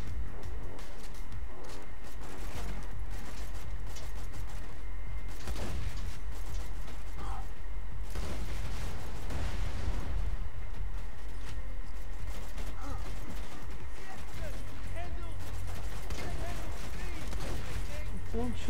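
Gunfire in Borderlands 2: repeated sharp shots and bursts spread through a noisy, continuous combat mix of mechanical clatter and effects, fairly loud throughout with no clear pauses.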